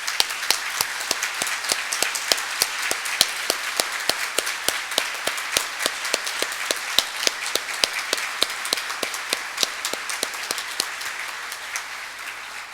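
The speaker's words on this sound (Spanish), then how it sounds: "este auditorio les va a devolver a ustedes ese esfuerzo con un fuerte aplauso" Auditorium audience at the closing ceremony of a Panamanian procedural law congress applauds; a thinned-out clapping with sharp individual claps in a fairly regular rhythm carries on for over twelve seconds, near and clear.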